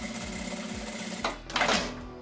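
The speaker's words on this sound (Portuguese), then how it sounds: "Uma costurinha bem na beiradinha, só para prender." Sewing machine running a line of stitches along the edge of fabric for a toiletry kit, a steady mechanical whir with a rhythmic needle tick that swells louder near the end, heard alone without talking.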